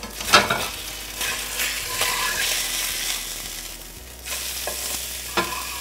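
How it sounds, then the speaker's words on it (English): Fish fries in a pan with a continuous sizzle. A few sharp scrapes and flares mark it being turned over, and no voices are heard. "I think it's time to turn that fish over."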